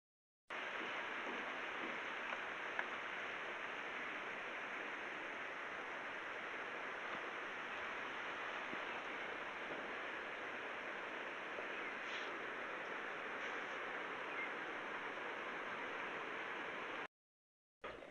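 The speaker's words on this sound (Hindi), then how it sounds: "अभी हल्की हल्की बारिश लगी हुई है" Continuous gentle hiss of light rain, even and unbroken for a long stretch, then cutting off abruptly near the end.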